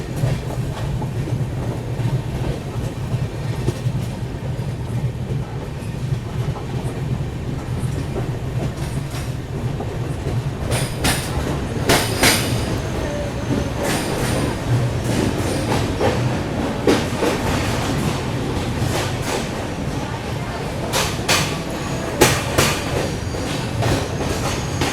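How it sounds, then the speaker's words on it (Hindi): The Howrah Mumbai Duronto Express rolls slowly through Akola Junction, heard from on board: a steady low rumble with rhythmic wheel clatter over rail joints and occasional sharp squeals and clanks, with no talking. "अभी अकोला जंक्शन पे जब ट्रेन एंटर हुई ना, तब रेड सिग्नल था"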